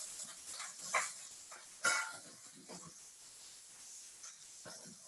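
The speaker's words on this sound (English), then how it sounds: "So you can hear the chicken cooking right now." Red spice chicken cooking in a pan gives a faint, steady sizzling hiss, with a few soft knocks and clicks breaking through now and then.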